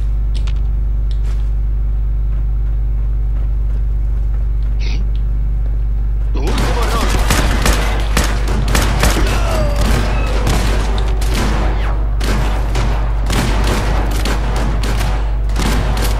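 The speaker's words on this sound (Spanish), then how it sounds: "¡Qué disparos más bestias estoy escuchando por aquí!" Heavy gunfire erupts in Fallout 4 after a quiet stretch of low droning hum, a dense, loud barrage of overlapping shots and booms continuing for about ten seconds.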